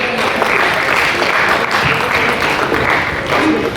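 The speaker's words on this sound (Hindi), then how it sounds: "तो एक बार जोरदार तालियां हो जाएं।" Loud, sustained audience applause at an honouring ceremony, continuous dense clapping throughout with some crowd noise mixed in.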